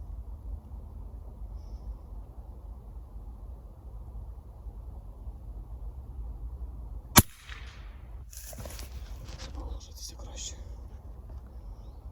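A single sharp crack of a KOZAK-FC air rifle shot at 50 metres stands out against a steady low outdoor rumble, followed by brief rustling and a faint reverberant tail.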